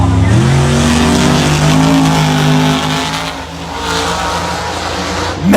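Monster trucks racing at the Monster Jam World Finals, with loud, close engines roaring and revving in rising and falling sweeps, a hint of tire squeal, and voices faintly mixed in.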